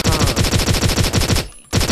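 Rapid automatic gunfire in the video game Blockade 3D on the Japan map, loud and continuous bursts in a steady rhythm, briefly dropping out before resuming.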